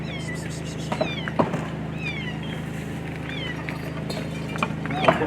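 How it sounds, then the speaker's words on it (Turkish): A five-day-old kitten trapped under rubble gives several faint, thin meows scattered over steady low background hum, with occasional light knocks and movement nearby. "Kedi sesi, mama."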